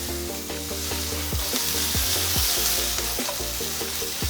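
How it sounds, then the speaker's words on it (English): Salami slices crisping in a hot pan with fresh pasta, a loud, constant sizzle broken up by repeated tossing and stirring knocks of utensil on pan, close up and with no voices. "you can see the colors are changing here on the salami. It's starting to get a bit more crispy."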